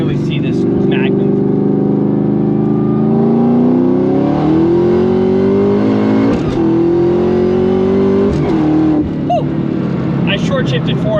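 A Shelby Cobra sports car cruises on the highway, its deep engine drone steady and loud with pitch rising gently through acceleration and a brief shift dip, while someone talks over it intermittently.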